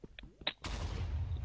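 Explosion in the Minecraft Sky Wars video game, a few short clicks and taps followed by a sudden loud blast whose rumbling roar lingers and slowly fades through the rest of the moment.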